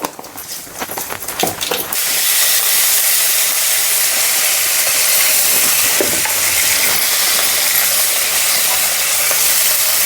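Cumin seeds drop into hot oil and erupt into a loud, dense sizzle after a couple of seconds of lighter clinks and crackles, then hiss steadily and strongly to the end.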